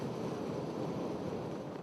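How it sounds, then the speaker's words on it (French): Stormy sea on the British coast during Storm Ciara, a loud, steady roar of surf and wind buffeting the microphone, with no voices. "Et une mer déchaînée sur tout le littoral britannique."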